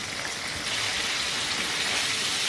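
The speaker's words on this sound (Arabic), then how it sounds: "هديله صدمة كده ومش هقلب فيه غير لما أحس إن بدأ لونه يتغير" Lamb heart searing in a hot pan, giving a loud, steady hiss of sizzling fat and moisture that runs evenly throughout.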